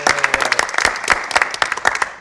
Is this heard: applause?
yes